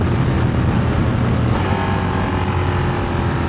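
A Honda Transalp motorcycle rides under engine power and changes gear through a quickshifter without the clutch, giving a steady engine drone with wind rush and a brief shift in tone midway.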